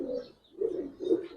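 Giribaz silver pigeon hen sitting on eggs, giving soft low cooing calls in three throaty swells, close and alone with no talking.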